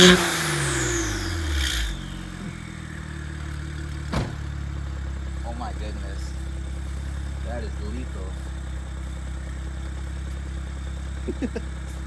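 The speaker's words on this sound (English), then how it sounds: "here I'm gonna record some revs" A 2010 BMW 135i with fresh paint idles with a steady low engine drone, then a brief sharp rev rises near the middle before settling back to idle.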